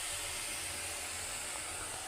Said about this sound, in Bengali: ভাজছি।